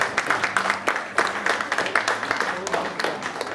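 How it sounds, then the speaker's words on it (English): Audience applause at a jazz arts show, a steady patter of clapping lasting a few seconds with a voice talking over it. "let's give him a round of applause"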